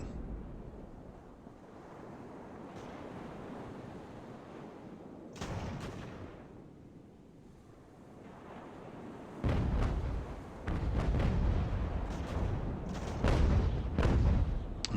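Cannon fire from sailing warships in Ultimate Admiral: Age of Sail: broadside booms rise out of a steady wash of waves and wind, with one blast near the midpoint and a heavier, sustained barrage of shots building through the final seconds.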